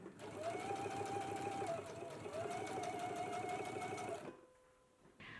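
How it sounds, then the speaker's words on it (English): A sewing machine runs steadily and loudly for about four seconds of continuous stitching a seam on a patch pocket, then stops, leaving a quieter pause before a brief noise at the end. "Let's go ahead and do the stitching now."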